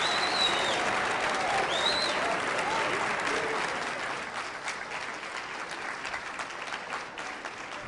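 Audience applause following the national anthem at a ceremony, honouring Detective Wise: sustained, full clapping with scattered cheers, loud at first and tapering off to a lighter patter.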